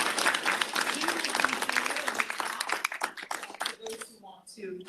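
Audience applause for a speaker at an event on cultural diversity: dense, fairly faint clapping that thins out near the end while voices talk over it.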